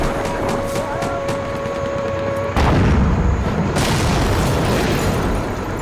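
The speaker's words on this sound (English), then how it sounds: "One blast from its 76mm main gun left the front of the Thak in ruins." A loud blast from a tank's 76mm main gun, a sudden heavy boom that cuts in midway over an already loud, dense rumbling battle background, followed by a sustained roar.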